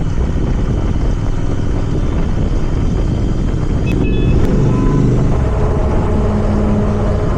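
A Royal Enfield Interceptor 650 fitted with Gursewak slip-on exhausts cruises on an open road, its engine drone steady and loud throughout, mixed with heavy wind rush.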